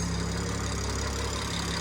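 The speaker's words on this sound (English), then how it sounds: "It's finally idling down, and I do not hear the squeaking." A BMW B58 single-turbo car engine idles steadily after repair work, a constant low rumble with a fine mechanical hum, close and unbroken, with no voices.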